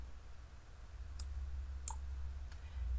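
A computer mouse gives three faint, sharp clicks spaced about a second apart over a low, steady electrical hum, with no speech.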